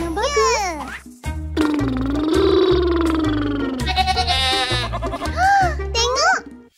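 Cartoon goat bleats in a long wavering cry, loud and close, amid a children's animated story, with music and a narrator's voice around it.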